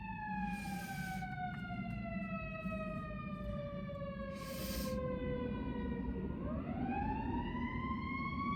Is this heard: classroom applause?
no